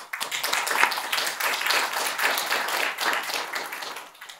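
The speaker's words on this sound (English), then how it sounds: "this really deserves a round of applause" Applause from an audience at a business results presentation, a steady wash of many hands clapping for about four seconds before fading, moderately loud and with no talk over it.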